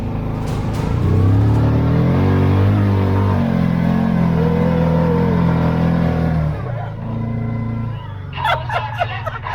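A Kawasaki Teryx side-by-side pulls up a hill, its engine loud and close with a rising, straining drone that eases off near the end. Brief clattering noises follow.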